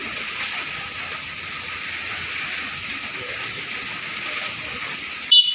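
Rain falls outdoors in a steady, even hiss of drops that stays constant throughout, with a brief louder knock right at the end.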